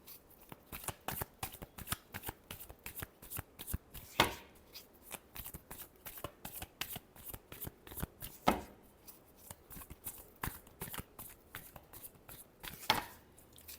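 Tarot cards being shuffled by hand, a steady run of crisp riffling flicks and slaps with a few louder snaps, close and alone with no talking.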